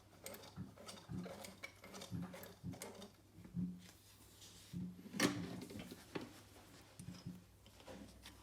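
Clicking, ratcheting mechanical ticks from the hand wheel of an industrial sewing machine turned slowly by hand to draw up the bobbin thread, a close, irregular series of small clicks and knocks with no talk.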